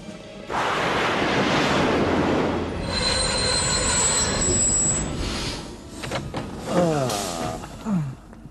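In a cartoon, a train screeches loudly with shrill, sustained wheel squeal over rumbling noise, then fades into a few shorter squeaks and chirps.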